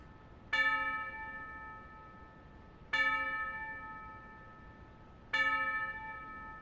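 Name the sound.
bell tone ringing after the song ended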